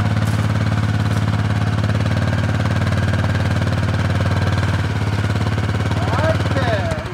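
Suzuki King Quad 750 ATV engine running while the quad backs up, a loud, steady low rumble close by that stays constant for several seconds and eases near the end.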